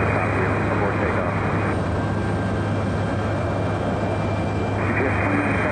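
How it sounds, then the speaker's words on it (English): An MD-11 heavy jet aborting its takeoff and going around, a steady loud engine roar filling the whole stretch with a constant low hum beneath, with no pauses or breaks. "the takeoff clearance got canceled, and the MD-11 had to pull up and go around"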